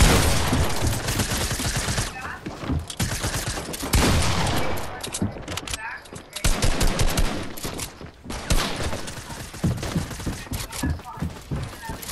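Shotgun blasts in a video game firefight, loud repeated shots in irregular clusters with short pauses, dense volleys near the start and again in the second half.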